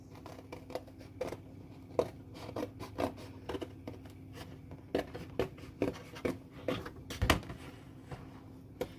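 Small scissors snip through material in a quick, uneven series of close, crisp cuts with brief pauses between them.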